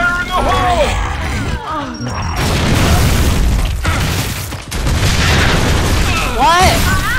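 A Boomshot grenade launcher blast in Gears of War on the Anvil map, booming loudly through the middle of a busy fight while voices shout and talk over the din.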